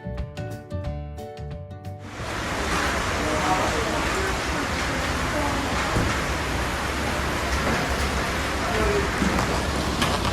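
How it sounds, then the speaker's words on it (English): Steady rain falls on a South African hunting property, a broad, even hiss that starts abruptly after a couple of seconds of other sound and continues unbroken. "It's raining today, so we got some downtime."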